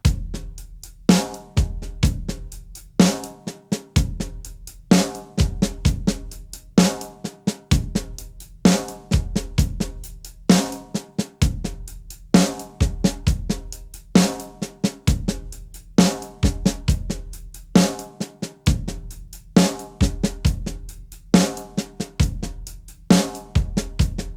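A steady paradiddle groove in 13/16 repeats on a drum kit at a moderate tempo, with punchy kick and snare hits and regular cymbal strokes, played alone.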